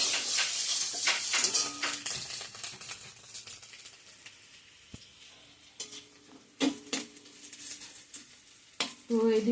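An egg fries in a pan alongside a separate pan of onion, garlic and chilli with panch phoron, giving a soft continuous sizzle broken by scrapes and clinks of a spatula, heard close with no talking.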